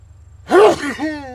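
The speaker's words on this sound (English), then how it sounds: "Big sneeze." A single loud, close sneeze bursts out, followed by a short voiced exhale.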